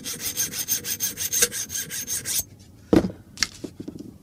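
A BCM buffer tube stock from a Gunfighter Mod 1 SOPMOD kit slides back and forth held close to a microphone, giving rapid rhythmic rasping strokes, then a pause and a few separate clicks and scrapes.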